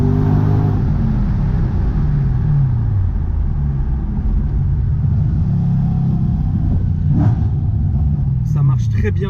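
An Audi RS4 engine drones loud and close from inside the car as it accelerates, a steady deep rumble with rising pitch sweeps, while people talk over it.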